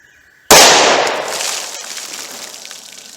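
Single .357 Magnum snub-nose revolver shot fired into a bologna pack, a sharp, very loud close blast after a moment of quiet, followed by a long decaying echo.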